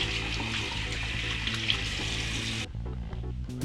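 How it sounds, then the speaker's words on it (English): Hot water runs from a tap into a slightly echoey home sink, a steady close gushing flow that abruptly cuts off, followed by a few soft drips and clunks. "throw some hot water in there."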